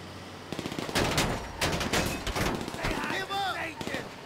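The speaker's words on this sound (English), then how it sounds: "Hold still while I shoot your bitch ass." Pistol shots in GTA Online ring out in a quick irregular series over a loud, shouting voice, with the shots and yelling overlapping throughout.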